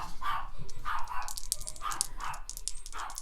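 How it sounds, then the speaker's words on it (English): Several dogs bark repeatedly and excitedly indoors, a steady run of loud, overlapping yips and barks with brief gaps. "Sorry, my dogs are freaking out."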